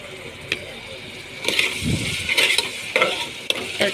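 Onions and tomatoes for mutton rassa sizzle in a pan, with a spoon stirring and scraping in short bursts, close up, while someone speaks.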